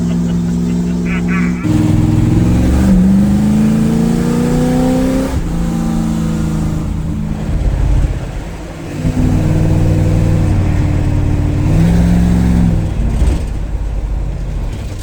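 A 1979 Pontiac Grand Prix on a test drive, heard from inside as the engine revs and shifts through rising and falling pitches, loud and continuous, with people talking over it.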